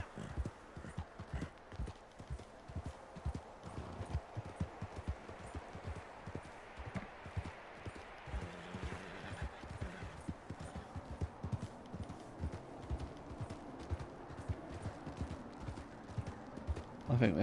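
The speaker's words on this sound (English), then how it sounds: "I don't need to hear a horse mewling." Horse hooves clip-clopping in the video game Red Dead Online in a snowy setting, a continuous brisk rhythmic stream of hoofbeats at moderate level, with occasional talk and game sounds mixed in.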